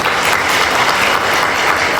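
Audience applause at a young men's graduation ceremony, dense and steady clapping from a crowd that fills the whole stretch at an even, loud level with no voices over it.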